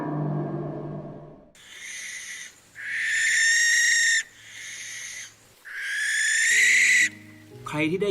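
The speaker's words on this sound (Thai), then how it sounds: "หากได้ยินเสียงนกแสกแถวบ้านใครนั้น จะมีคนตาย" A barn owl gives a series of four harsh, drawn-out calls at night separated by short pauses. A faint low murmur sits underneath at the start.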